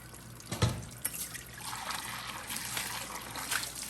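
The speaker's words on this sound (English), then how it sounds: "I am going to clean the bowl with just soap and water" Warm soapy water trickles and sloshes steadily while the bowl of a professional Waring Pro popcorn machine is washed by hand, with a few light knocks of the bowl against the sink.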